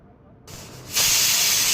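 Pressure cooker holding mutton stew with ginger, green chilli and whole garam masala, letting off a loud, steady, close hiss of steam that jumps sharply in strength partway through and keeps going without a break.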